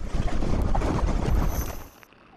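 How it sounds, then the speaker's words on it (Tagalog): Strong typhoon wind in Taipei, Taiwan, roars and buffets the microphone continuously, then drops off abruptly near the end. "Ganito naman kalakas ang hangin na bumayo sa Taipei"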